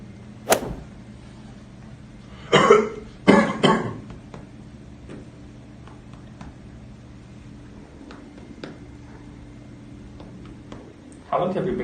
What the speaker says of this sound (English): How long have you been coughing?